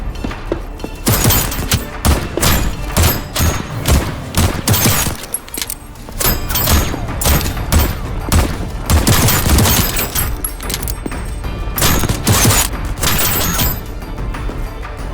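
Gunfire in the video game Voidtrain as a player shoots at enemies: loud, dense bursts of rapid shots with metallic mechanical clatter and booms, repeating in clusters across a long stretch without talk.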